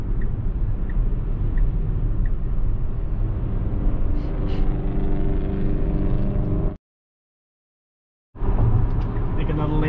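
Steady road and engine roar from a Tesla Model X cruising on a highway during a lane change, loud and continuous, with a sudden silent gap before the drive noise returns.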